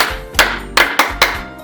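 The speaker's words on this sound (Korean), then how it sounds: "박수 5번 시작!" Crisp group handclaps ring out in a brisk rhythm inside a church youth worship service, each sharp burst fading quickly before the next, with no talking.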